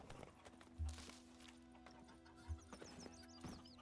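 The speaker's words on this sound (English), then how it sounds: "Horsey! Roach! Where are you? Oh, there you are." Roach, the horse in the video game Witcher 3, trots with a steady clip-clop of hooves and an occasional whinny, a few heavy hoof thuds standing out against ambient game sound, with no talking.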